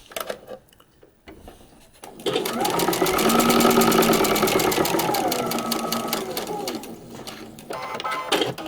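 Sewing machine stitching fabric for a paper-pieced quilt block, a fast steady mechanical whir-clatter running for several seconds after a brief quiet start, close and loud, then trailing off.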